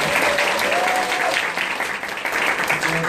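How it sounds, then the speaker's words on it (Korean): An audience at a skincare training event claps for two instructors, a dense burst of applause from a sizable crowd filling the room, steady and close with faint voices underneath. "수고해주신 두 강사님께 큰 박수 부탁드립니다"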